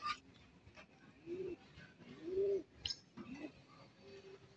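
Soft cooing of a pigeon close by on a roof, two or three low rolling coos with faint chirps and quiet background noise.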